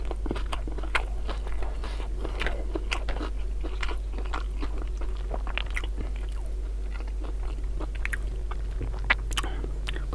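Raw vegetables are chewed and crunched up close in a steady run of crisp bites and wet mastication over a constant low hum, with no talking.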